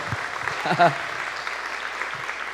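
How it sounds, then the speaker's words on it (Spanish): Applause from a church congregation at a full second Sunday service, a steady wash of many hands with a voice briefly cutting through near the start. "Dese un aplauso a usted por ser tan hermoso"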